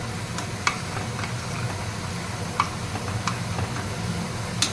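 Mashed vegetables cooked with pav bhaji masala stirred in a pan, a low bubbling simmer beneath several sharp scrapes and taps of the spoon against the pan at irregular intervals, close up.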